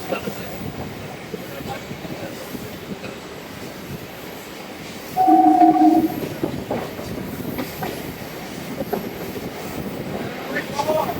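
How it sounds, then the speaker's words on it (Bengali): A local train rolls into platform 4 at Durgapur station at night with steady rumbling and clatter, a brief squeal rising midway, busy background noise throughout. "দুর্গাপুর স্টেশনের 4 নম্বর প্ল্যাটফর্মে দিয়েছে লোকাল"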